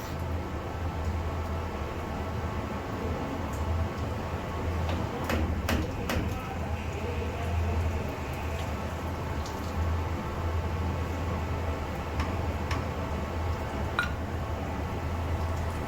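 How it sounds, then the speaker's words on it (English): A steady low mechanical hum of ship engine room ventilation fans fills the background, constant and even, with faint clicks and knocks scattered over it. "That is the sound of the engine room ventilation fans."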